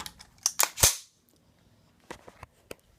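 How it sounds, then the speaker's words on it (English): AR-15 magazine being pulled out, sharp metallic clacks and a snap in quick succession, then a pause and a few lighter clicks, close up and dry. "It'd help if I took the mag out."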